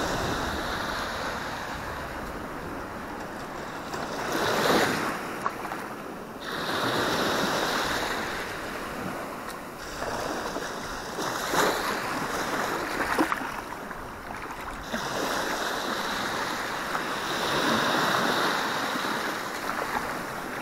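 Ocean waves wash in at the shoreline as someone wades in with bare feet, a steady hiss of surf with gentle surges every few seconds, moderately distant and unaccompanied by talk.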